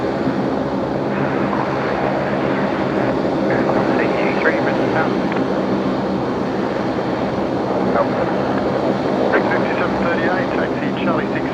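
An aircraft taxis off the runway toward its hangar at Brisbane Airport at night, a steady broadband engine roar held at a constant level throughout, with no clear change in pitch or distance.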